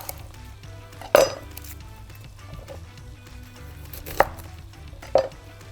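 A red onion is chopped with three separate sharp knife strikes against a board, spaced a second or more apart, over a low, quiet kitchen hum.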